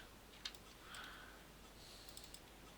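A few sharp, quiet clicks of a computer mouse, isolated taps spaced apart over a faint background hum.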